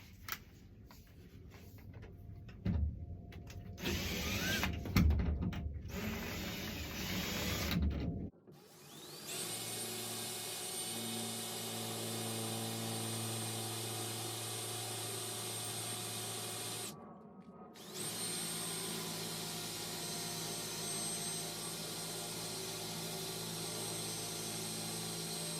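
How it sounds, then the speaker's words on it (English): A power drill whirs in short bursts, then runs in a long steady whine, pauses briefly, and whines again. "I'm going to go ahead and drill this now."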